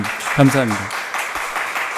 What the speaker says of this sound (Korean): 먼저 격려의 큰 박수부터 시작하겠습니다